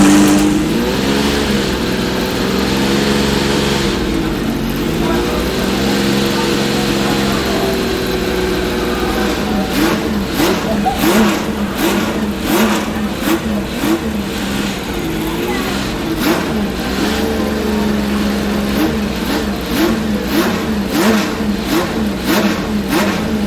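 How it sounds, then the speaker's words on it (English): A warmed-up Porsche 917K racing car with a 5-liter flat-12 engine idles, then revs up again and again in sharp blips, loud and close, with a voice heard at times. "once the oil was warm, the engine was at operating temperatures, we revved it up a little bit"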